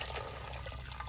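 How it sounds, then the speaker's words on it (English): Cold water from a hose sprays steadily over a freshly scalded chicken outdoors, a continuous close splashing rush with no talk. "when you pull it out, we're going to hose it off with cold water"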